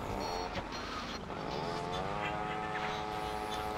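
Motorcycle engine from GTA Vice City, a steady droning whine with rising pitch as the bike accelerates, fairly close and continuous under faint game ambience.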